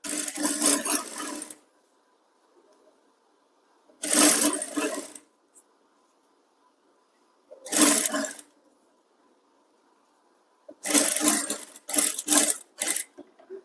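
A sewing machine stitches thread piping onto a designer blouse in loud, close bursts of rapid mechanical whirring, with quiet pauses between runs. The last bursts come in quick succession.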